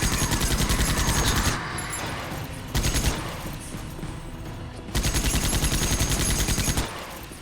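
Sustained rapid-fire gunfire from the video game Dreamkiller, loud, pulsing bursts of automatic shots that stop and restart several times, separated by brief stretches of quieter game noise, with no talking.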